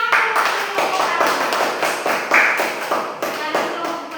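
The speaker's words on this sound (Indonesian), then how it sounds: "Oke, tepuk tangan dulu." Classmates in a schoolroom clap together after a student's presentation, sharp close claps landing in a quick regular rhythm about three per second, with voices mixed in.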